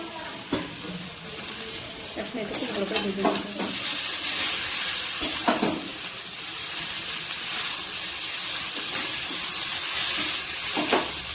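Chow mein being stir-fried in a pan with chili, a continuous close sizzle with bursts of scraping and tossing strokes from the spatula, no speech.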